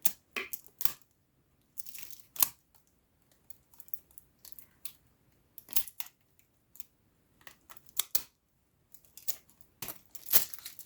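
Sharp intermittent crackles and rips as packing tape is cut and peeled off a cooling fan's box, in irregular bursts with quiet gaps between.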